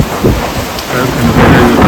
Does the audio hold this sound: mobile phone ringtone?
no